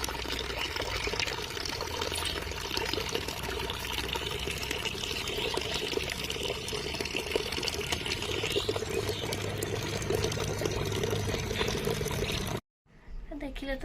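Water pouring steadily from a government tube well in a village, a continuous dense rushing and splashing that runs for several seconds before cutting off briefly and resuming.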